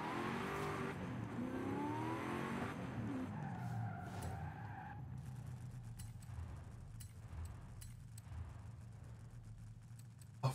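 A car driving hard in Forza Horizon 5, tires squealing through a long skid as the engine revs and shifts, followed by steadier driving with sharp mechanical clicks and a final thump.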